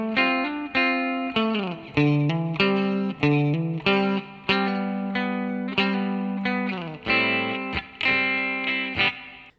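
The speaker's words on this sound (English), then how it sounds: "And the turnaround sounds like this." An electric guitar plays the turnaround of a song, a steady rhythmic run of plucked notes, hammer-ons and double stops, close, loud and slightly overdriven, with no talking.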